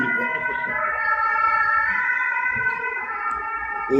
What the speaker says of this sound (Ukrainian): чекай, Вова, поліція